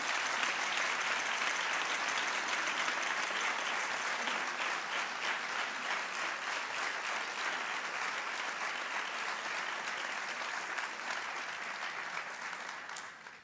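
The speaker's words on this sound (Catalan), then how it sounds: "I un fort aplaudiment vos demane per a la gent de Muro de Mallorca." Strong, sustained applause from an audience at a joint Muro de Mallorca and País Valencià stage show, a dense even clapping that carries on for the whole stretch and fades slightly at the end.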